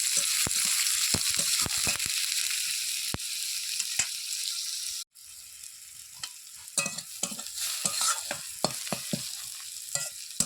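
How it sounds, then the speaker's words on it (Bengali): Chopped onion frying in a pan, cooked for an egg dish: a steady close sizzle with repeated scraping stirs, a brief dropout midway, then continued sizzling and clatter. "প্রথমে পেঁয়াজ কুচি দিয়ে দিলাম, পেঁয়াজ একটু বেশি দেব।"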